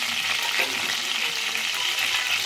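Whole spices sizzle in hot oil for curry, giving off a dense, close, steady frying hiss with faint crackles throughout.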